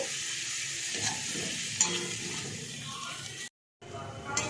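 Masala with chopped coriander leaves sautéing in a pan for sambar onion rice: a steady sizzle with scraping stir strokes, a brief dropout near the end, no talking.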